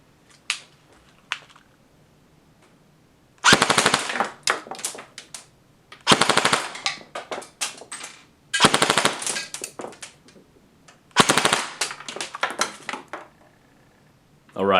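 A stock G&G Combat Machines M4 airsoft AEG on a 9.6 volt, 1600 mAh NiMH battery fires full auto in four sharp bursts of rapid clattering shots, with quiet pauses between them.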